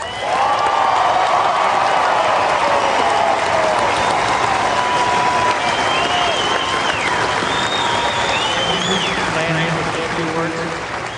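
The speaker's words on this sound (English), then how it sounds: "give these two one more round of applause" Tennis fans in a stadium applaud the finalists of the Cincinnati Masters final, a loud sustained wash of clapping and some cheering, with voices and whistles mixed in throughout.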